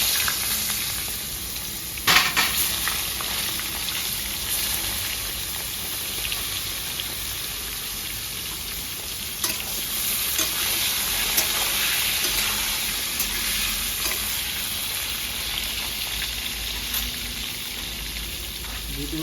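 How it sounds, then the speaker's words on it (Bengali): Eggplant pieces frying in hot oil give a steady, close sizzle throughout, with a few brief clatters and stirring sounds on top. "বেগুন দিয়ে দেবো, বেগুন ভেজে দেবো"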